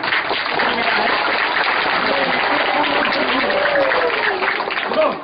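Audience applause at a quiz held at Vivekanand Mandir, dense steady clapping running throughout with talk mixed in underneath.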